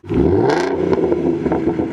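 A Ford Mustang 3.7L V6 fitted with an aftermarket exhaust blips loudly up close, a quick rising rev settling into a gruff, rumbling hold with mechanical clatter.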